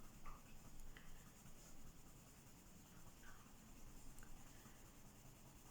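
A Castle Arts Pasteltint pencil in 031 Jade is scratched across paper in short, soft strokes, a faint, close, dry scribbling texture with no voices.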